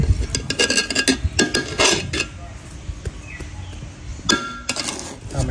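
Biryani being stirred and mixed in a pot, with a run of metallic scraping and clinking from a utensil against the vessel, close and moderately loud, with uneven bursts and brief pauses.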